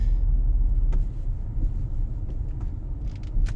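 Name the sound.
BMW M135i xDrive driving over a speed bump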